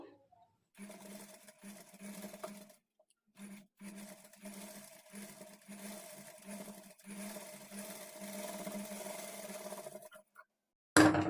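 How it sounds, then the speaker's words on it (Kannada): A sewing machine stitches a halter neck blouse at a quarter-inch margin, running in steady whirring bursts with short pauses between runs, close and moderately loud with no talking. "ಕಾಲು ಇಂಚ್ ಮಾರ್ಜಿನ್ಗೆ ಸ್ಟಿಚ್ ಮಾಡ್ಕೊಳ್ಬೇಕು"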